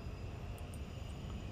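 Airplane engine drone in the SimAirport airport tycoon game, a steady broadband roar lasting throughout at moderate level with no talking.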